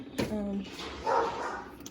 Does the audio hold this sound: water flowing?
no